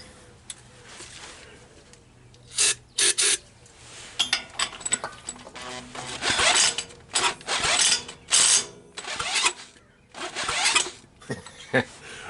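A cordless drill whirs in repeated bursts while working on a Troy-Bilt tiller, with clicking and ratcheting in between. The motor revs up and stops several times, close by.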